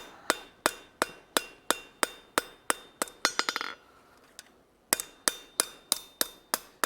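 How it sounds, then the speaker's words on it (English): A hammer strikes hot steel tongs on an anvil in a steady run of bright, ringing blows. A quick flurry of lighter taps and a short pause come midway, then the even strikes resume. "I'm hitting in between those bumps to spread the material evenly."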